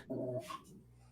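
A dog growls low and briefly, then gives a short higher whimper, close and fairly quiet, with no talking.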